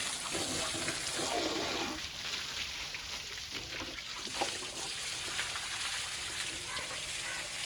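Water sprays forcefully and continuously while a John Deere 5310 tractor is washed, a loud, close hiss lasting the whole stretch with a person talking over it.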